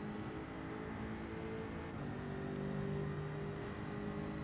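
In Gran Turismo 7, a race car engine at Circuit de la Sarthe holds a steady, droning rev as its pitch shifts slightly while it accelerates. The engine is heard alone, loud and continuous.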